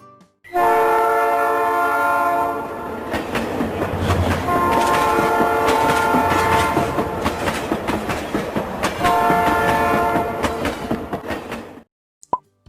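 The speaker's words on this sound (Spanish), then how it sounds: "Es el tren." A train rolls past up close and loud, with a long sustained horn blast near the start and again near the end over steady clattering wheels, ending in abrupt silence.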